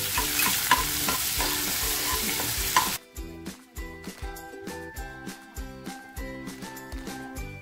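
Onion drops into hot oil already crackling with cumin, mustard seeds and dried red chillies for moong dal amti. A loud, dense sizzle fills the first three seconds, then gives way to rhythmic background music.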